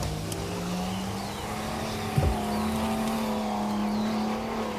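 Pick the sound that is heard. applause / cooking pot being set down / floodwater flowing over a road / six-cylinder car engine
six-cylinder car engine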